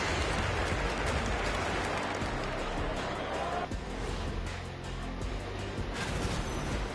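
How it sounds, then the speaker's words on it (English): Rain falls steadily outside, a dense continuous hiss of drops on surfaces that stays loud and even throughout, with no distinct voices over it. "It's raining in my place now."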